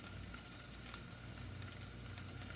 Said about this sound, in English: I'm going to flip my bacon over. I'm gonna use a spatula.